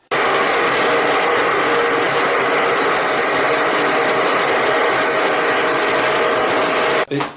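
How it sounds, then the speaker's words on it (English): A Bissell ProHeat 800 W carpet cleaner runs its clean shot, spraying a jet of cleaning fluid with a loud, steady, whining hiss that cuts off abruptly just before the end. "It just directs a jet of cleaning fluid out."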